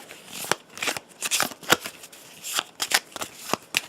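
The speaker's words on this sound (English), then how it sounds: "let's shuffle them up" A deck of Hero Realms cards is riffled and shuffled up close, quick papery bursts of flicking cards repeating in an irregular rhythm with no talking.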